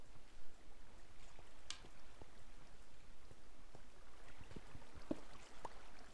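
Flowing water in Minecraft, a soft, steady trickling wash with faint bubbling splashes, quiet and continuous with no talk over it.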